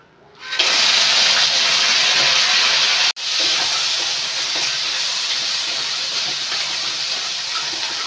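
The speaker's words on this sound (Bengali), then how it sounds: "আর তাতে আমরা কাঁকড়ার ডানাগুলো ভেজে নেব।" Crab claws drop into hot oil and burst into a loud, harsh sizzle that cuts off for a moment, then carries on as a strong, steady hiss.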